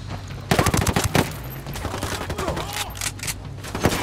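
Video game gunfire, a loud burst of rapid shots followed by scattered, fainter firing and a final crack, with brief voice audio underneath.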